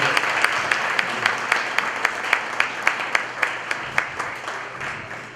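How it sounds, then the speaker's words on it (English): At an annual meeting, an audience applauds the governor with a steady, evenly spaced run of sharp claps standing out over a soft background hiss of the crowd, moderately loud and continuing throughout. "How about one more round of applause for the governor?"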